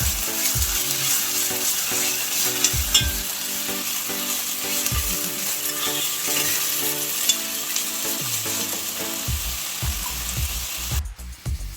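A banana flower biryani mix fries with garam masala in a pan, loud continuous sizzling with repeated stirring scrapes up close, no voices.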